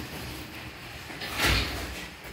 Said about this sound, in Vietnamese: Đây, cái cửa mình mở ra như thế này để cho heo nó vô